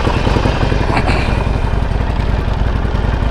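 A Harley-Davidson Sportster motorcycle engine runs steadily close by, a loud, even, lumpy rumble with no pauses.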